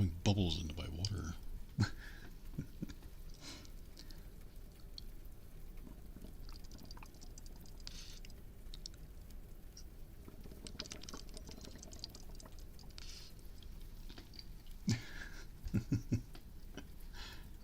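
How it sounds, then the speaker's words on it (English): Bubbles are blown through a straw into a glass of water, a faint bubbling gurgle with a few louder splashy bursts, heard close up and soft under quiet talking. "To be blowing bubbles into my water."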